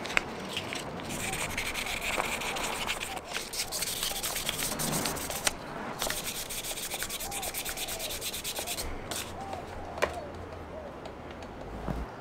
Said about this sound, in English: Last piece of sandpaper, 1500 grit.